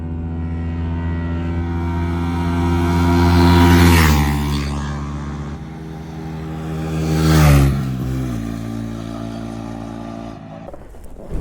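A KTM Duke 250 motorcycle accelerates hard in a roll-in drag race, its engine screaming up through rising revs with two loud swelling passes, each followed by a quick drop in pitch after a gear change.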